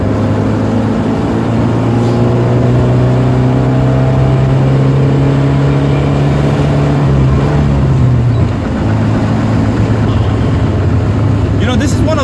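Engine of a classic Alfa Romeo Alfetta heard from inside the car while driving, a steady low drone with rising and falling tonal sweeps as revs change, continuous and fairly loud, ending with a brief gear-change dip.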